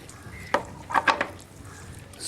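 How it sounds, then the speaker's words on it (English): Green masala and coconut being stirred together in a pan in a Keralan kitchen in Cochin, giving a few soft scraping and clinking strokes of a utensil against the pan, near and fairly quiet, with no talk. "Stir all that together."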